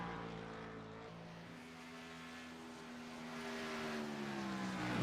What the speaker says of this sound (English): Really hear how hard he's winding that car up.